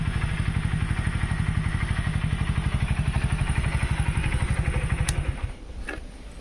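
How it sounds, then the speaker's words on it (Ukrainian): A Mustang 125 motorcycle engine idles steadily and loudly with an even, rapid thumping beat, settling to a quieter, smoother idle near the end after a couple of faint clicks. "Так працює прекрасно. Як новий мотоцикл."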